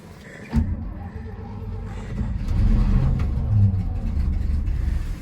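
An old Chevy truck with a 12v Cummins engine cranks with a sharp catch, then settles into a low rumbling run that swells as it is revved, close and steady.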